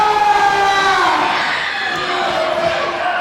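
Hot wrestling crowd at an HWU event roaring and chanting continuously, a dense sustained wall of voices with rising, siren-like sustained cheers, loud and close throughout.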